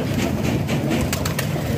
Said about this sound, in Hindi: 70 कबूतर है भाई, लंबी लंबी।